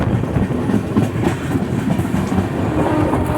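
The Saurashtra Janta Express rolls through Sabarmati, heard from on board: a loud, continuous rumble of rail cars with rhythmic wheel clatter over the track joints, and no voices.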